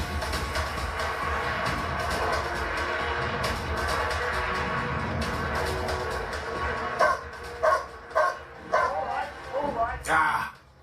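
A search dog gives a run of sharp, loud barks and yips near the end, following a stretch of outdoor background noise, with people talking in the area.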